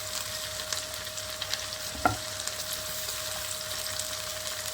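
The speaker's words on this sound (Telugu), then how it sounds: "అల్లం ఎల్లిగడ్డ పేస్ట్ వేస్తున్నాం పచ్చి వాసన పోయేంత వరకు బాగా వేయించుకోవాలి" Ginger-garlic paste and coriander frying in a pan for a drumstick-leaf chicken curry, giving a steady, close sizzle with a single sharp knock of a spoon or utensil partway through.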